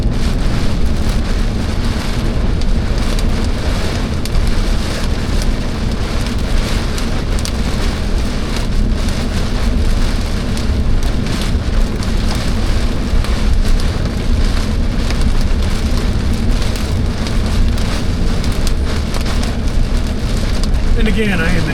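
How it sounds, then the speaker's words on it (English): Heavy rain pounds steadily on a car while driving, a dense continuous hiss and patter mixed with road rumble that stays loud and unbroken throughout. "just cruising in the rain"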